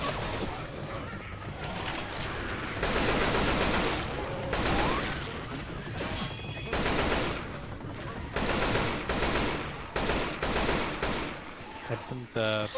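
Rapid gunfire in Left 4 Dead 2 against zombie hordes, repeated bursts of automatic and shotgun fire close and loud, with players talking over the shooting.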